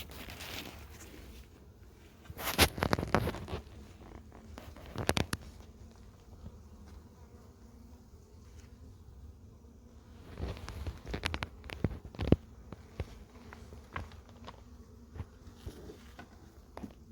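Honeybees buzz around the entrance of a hive, a faint steady hum with louder passes as individual bees fly close by, along with a few sharp handling knocks.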